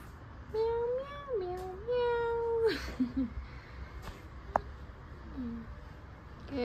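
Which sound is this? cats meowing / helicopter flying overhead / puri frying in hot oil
cats meowing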